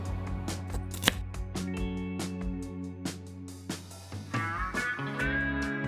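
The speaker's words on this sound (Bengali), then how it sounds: "ঠিক ততক্ষণে সবজিগুলো একে একে কেটে নেব।" A knife chops carrot, potato and capsicum into cubes for a one-pot soya pulao, the blade striking the board in steady, fairly close taps over a background of soft music.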